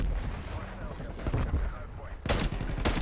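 A TEC-9 fires single shots in the video game Call of Duty: Black Ops Cold War. Several quick, loud shots come in a rapid string, heaviest toward the end, with a person talking in between.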